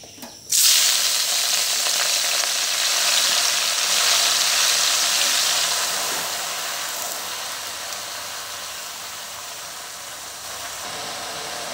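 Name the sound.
jute greens frying in oil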